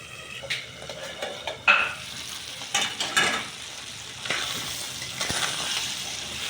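Fish frying with masala in a pan, a steady sizzle broken by scraping spatula and clinking pan strokes at irregular intervals, close and alone with no talk.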